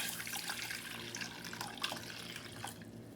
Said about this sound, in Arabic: عندي هنا لتر تاع الماء نوضعه في الكاسرونه